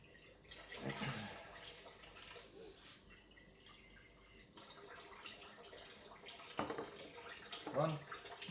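Water sloshes and splashes as a purified water sample container is rinsed out, in short irregular bursts at low level with quiet talk in between.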